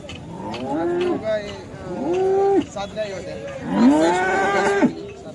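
Cows moo loudly and close at a busy cattle market, three long drawn-out calls with short breaks between them.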